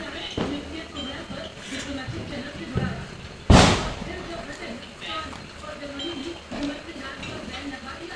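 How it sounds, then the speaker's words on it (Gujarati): A single sharp firecracker bang bursts out during Diwali celebrations, loud and close, amid a steady background of chatter and distant festive noise. "એટલા ફટાકડા ફોડી નાખ્યા"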